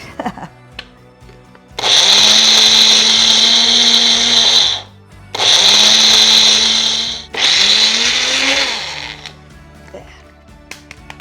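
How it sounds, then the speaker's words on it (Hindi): Dry red chilli chutney with salt whirs loudly in an electric grinder in three bursts, the motor whining up hard and cutting off between runs, with quieter kitchen handling noises before and after. "Now let's grind grind grind."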